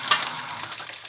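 Sea bream sizzling in a pan with onions, cooked until nearly charred, a steady close crackle with a sharp pop near the start and no voices.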